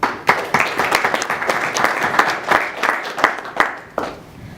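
Sustained applause from an audience at a soldiers' military graduation ceremony, dense clapping with a few sharper near claps standing out across the whole stretch.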